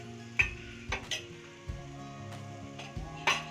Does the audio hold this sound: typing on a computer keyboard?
no